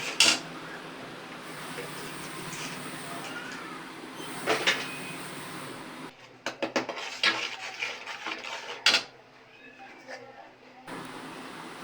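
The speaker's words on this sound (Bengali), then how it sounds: "এখন মশলাটা কষানো হবে।" Turmeric, salt and spices are sautéed in a pan for a vegetarian curry, with steady sizzling hiss and scattered clinks and scrapes of stirring. A voice speaks throughout, and a louder clattering burst comes near the end.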